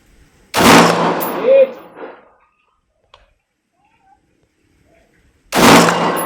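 Two sharp, loud M16A2 rifle shots ring out about five seconds apart, each followed by a short decaying echo, with near-silence between them during outdoor test firing.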